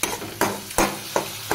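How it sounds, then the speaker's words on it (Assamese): Tomatoes fry in oil with a steady sizzle, broken by four evenly spaced scraping stirs of a spatula in the pan, close and unaccompanied by speech. "বিলাহী পুৰা তেলত দি দিছে"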